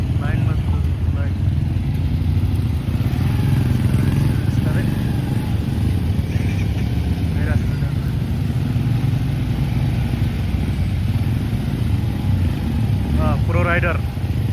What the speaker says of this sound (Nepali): पुलमा चाहिँ साँग्रो भएर बाइक तार्ने कार्यक्रम भइरहेछ